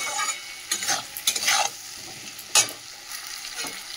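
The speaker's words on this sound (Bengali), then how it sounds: "নুন হলুদটা দিয়ে আরেকটু আলুটা ভেজে নেব" Potatoes frying in a pan with salt and turmeric, stirred with a utensil: close scraping and stirring strokes over a soft, steady sizzle, with sharper clatters at irregular intervals and no talking.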